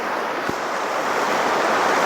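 A river running high with snow melt, a steady broadband rush of water filling the whole stretch evenly, with a single brief low thump near the start and no voices.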